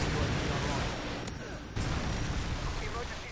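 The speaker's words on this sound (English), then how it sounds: "Friendly Predator missile inbound" A Predator missile explodes in a Call of Duty match, a dense, roaring blast with a brief dip and a second heavy surge, loud and continuous over game noise.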